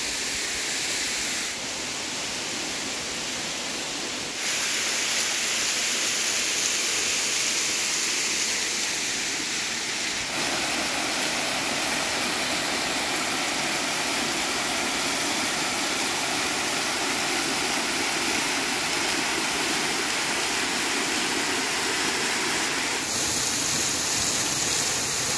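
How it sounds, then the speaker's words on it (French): A waterfall roaring steadily, broadband rushing water heard close and loud for the whole stretch, with no talk. "Je crois qu'on peut vraiment accéder juste en dessous de la cascade"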